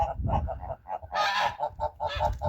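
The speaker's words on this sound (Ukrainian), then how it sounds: "Оце гусак." A gander in a village farmyard honks in a rapid series of loud, nasal calls, with two harsher, broader blasts breaking through the steady rhythm.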